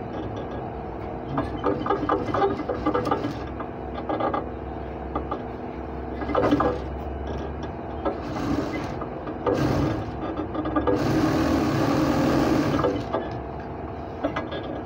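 A sewing machine double stitches a trouser side seam, its mechanical clatter running in uneven bursts with whirring stretches and short pauses, close and steady with no talking.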